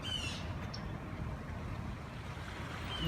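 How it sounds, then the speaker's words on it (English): A creek's water rumbles in a steady, broad wash outdoors, continuous and fairly close throughout, with a faint bird chirp near the start. "A little bit of water rumbling."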